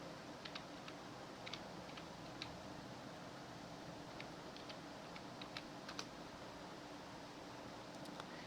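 Quiet, steady tapping on a computer keyboard, small clustered keystrokes clicking softly over faint room hiss without any talking.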